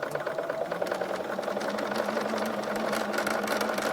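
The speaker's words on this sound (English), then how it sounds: "I'm just going to sew it to about there." A sewing machine stitches super stretch knit fabric in a steady, close, continuous mechanical hum with a rapid needle patter throughout and no talking.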